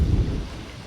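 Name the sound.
wind blowing on outdoor microphone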